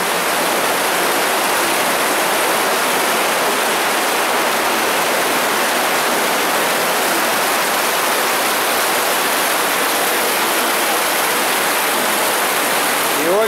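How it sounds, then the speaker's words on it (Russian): Turbulent underground river rushing through a Moscow tunnel lined with mineral flowstone, a steady dense roar of churning water, loud and unbroken with no pauses. "Очень бурный поток."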